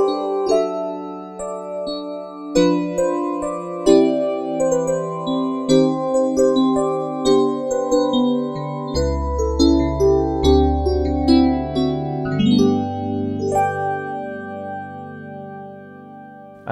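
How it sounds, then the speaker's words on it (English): Yamaha DX7 FM electric piano tone playing a sustained chordal passage with bell-like attacks, joined midway by a deep bass line, steady and close. "it's actually the sound of the Yamaha DX7"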